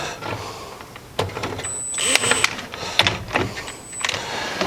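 A Milwaukee M18 high torque 2767 impact wrench on a swivel socket removes a bolt tucked beside a car's upper control arm, sounding as several short, fairly loud whirring bursts close by.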